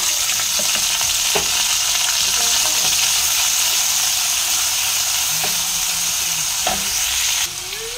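Chopped onions sizzle in hot mustard oil in a wok with salt and whole cumin, a loud, steady frying hiss punctuated by occasional scraping stirs, with no talking.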